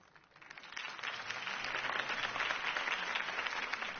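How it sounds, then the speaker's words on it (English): A crowd in a video game applauds after a mayoral campaign speech, the clapping swelling quickly and then holding steady and moderately loud. "If only Mr. Wayne, my campaign's largest backer, could have heard that applause"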